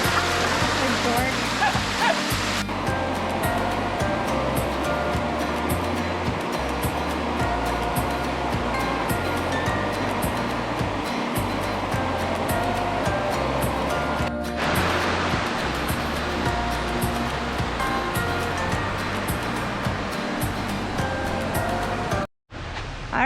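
A waterfall roars in a dense, continuous rush close by, loud and unbroken for the whole stretch, with a brief drop-out near the end.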